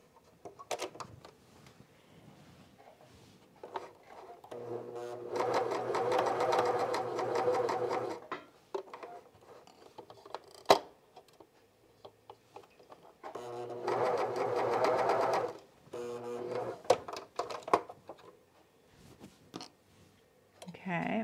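Cover stitch sewing machine fitted with a binding attachment, running in two long steady bursts of rapid mechanical stitching separated by quieter handling clicks and faint talk.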